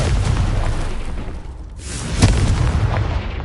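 In Hogwarts Legacy, a Confringo spell erupts in a loud, booming explosive roar that dips briefly midway, then swells again with a sharp impact and sustained rumbling.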